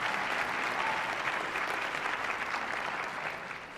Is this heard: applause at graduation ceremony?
yes